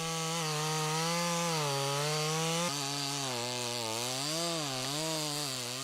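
A chainsaw cuts into a large wild cherry tree in a mountain forest, its engine roaring continuously up close and shifting pitch as it bites through the wood.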